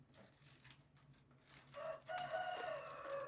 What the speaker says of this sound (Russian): В частном доме куры кукарекают.